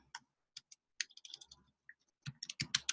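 Quick, quiet keystrokes on a computer keyboard come in uneven bursts, with short gaps between clusters of taps and a denser flurry near the end.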